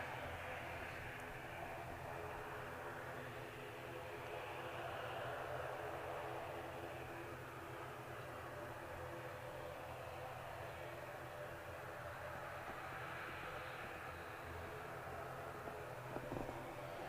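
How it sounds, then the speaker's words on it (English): An ATR turboprop arriving at Manchester Airport, a steady broad roar of engines heard from a close spotting position, fairly faint and unbroken throughout. "this is the Arena ATR 76 coming in from Guernsey"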